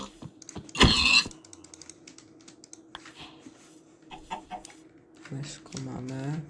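Chickens cluck in a Minecraft survival game, short blocky in-game clucks scattered among clicky keyboard typing and brief muffled noises, with a loud burst near the start.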